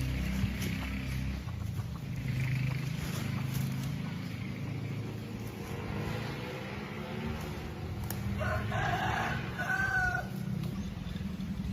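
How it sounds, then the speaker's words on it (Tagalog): A rooster crows in the distance amid steady outdoor noise, with other hens clucking and faint background sounds. "Rickmar, ang manok."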